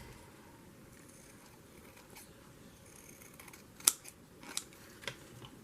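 Scissors snip around the rounded corners of journal paper in a quiet room, a few soft, faint cuts near the end over low background hiss.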